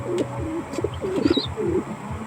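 A young blue bar pigeon coos in a few low, throaty rolling phrases with a faint chirp, heard up close and clearly with no talking.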